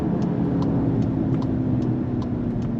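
A 2024 VW Jetta GLI sport sedan is heard from inside while driving, a steady engine and road drone with piped-in engine sound, moderate and continuous with faint ticking, no speech.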